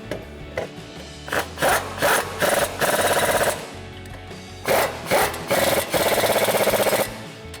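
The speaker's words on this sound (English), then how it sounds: "Now grab your 19mm swivel socket and tighten down your bolts." Brake rotor bolts are tightened with a 19mm swivel socket during a PowerStop Z23 brake rotor and pad install on a 6-lug vehicle, giving rapid rhythmic ratchet clicking in several close, loud bursts separated by short pauses.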